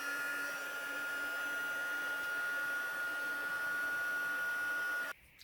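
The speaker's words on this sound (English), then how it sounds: "I'm going to heat emboss this with white embossing powder" Heat tool blowing to melt white embossing powder on dark cardstock, a steady whirring hum with a bright constant whine, close and alone, before switching off sharply just after five seconds.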